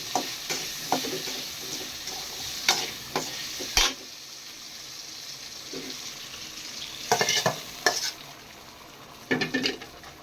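Two potatoes fry in hot oil with a steady, moderate sizzle, punctuated by irregular clatters and scrapes as a utensil stirs them against the pan. Nobody talks.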